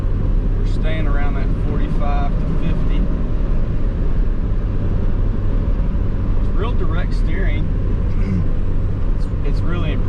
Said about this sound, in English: the only thing you freaking hear is the tires. They're actually pretty loud.